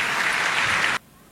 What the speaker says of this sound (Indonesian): Tepuk tangan sekali lagi yang paling meriah buat Tuhan.